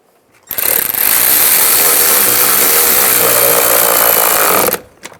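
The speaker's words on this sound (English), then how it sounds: "Tighten that down." A powered ratchet drives a bolt home on a 2007-13 Chevrolet Avalanche door latch actuator. A loud, continuous whirring buzz runs for about four seconds, then cuts off sharply.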